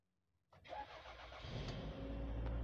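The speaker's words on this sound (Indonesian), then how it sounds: "ini kondisi Toyota RAV4 dengan mesin yang menyala. Untuk suara mesin halus ya." A 2001 Toyota RAV4 automatic AWD engine cranks and catches after a short quiet moment, then settles into a smooth, steady idle that grows slightly fuller, heard close from inside the car.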